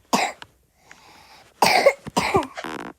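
Several sharp coughs in quick bursts, close and fairly loud, with brief pauses between them and a short throat-clearing sound near the start.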